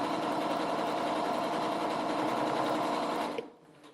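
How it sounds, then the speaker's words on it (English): A domestic sewing machine runs steadily at speed while stitching a quilt block seam, a close, continuous whirring buzz that stops abruptly near the end. "make sure you're lining up those seams."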